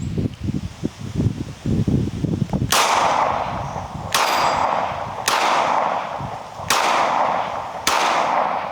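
A Glock 19 Gen 5 pistol fires five sharp, loud shots spaced about a second apart, each followed by a brief echo, after some rustling and handling noise.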